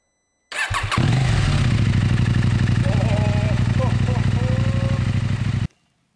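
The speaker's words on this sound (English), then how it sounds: "I absolutely love the sound of the slip-on from SC Project." KTM 790 Adventure R motorcycle fitted with an SC Project slip-on exhaust, starting up and then idling with a loud, steady, throbbing rumble for about five seconds before cutting off abruptly, heard alone without talk.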